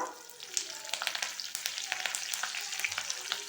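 Half a teaspoon of cumin seeds and curry leaves crackle in hot oil for pudina aloo, a busy, close sizzle dotted with sharp pops and spits throughout, with no voices.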